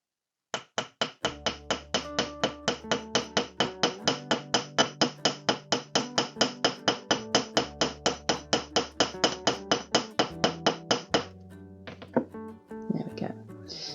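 A hammer flattens wire for a wire-wrapped pendant, ringing out in a long run of evenly spaced, sharp metallic strikes of about three per second, close and clear, before stopping and giving way to faint handling noises.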